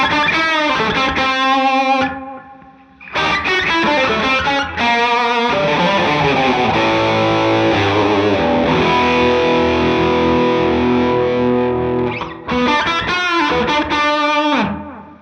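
Distorted electric guitar played through a Donner Yellow Fall delay and reverb pedal rings loud and continuous, with chords and riffs smeared by echo and reverb tails, no voice present.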